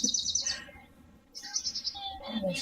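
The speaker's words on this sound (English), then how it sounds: "there's so many birds happening where you are, Christine." Outdoor birds among trees chirp in bright, quick tweets and trills, fairly close and clear, with brief pauses between bursts.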